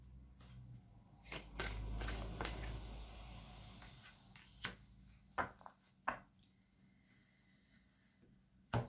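Tarot cards riffled and cut by hand in a quiet room, a soft papery flutter and slap in the first seconds followed by a few sharp isolated taps and snaps of the deck settling.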